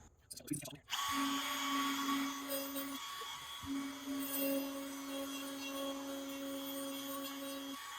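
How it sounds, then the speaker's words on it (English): A handheld router cuts into a cedar exterior door, starting after a few handling knocks with a steady high motor whine that dips briefly near the middle and then resumes, close and continuous. "So I'm going to have to do this by hand with a router."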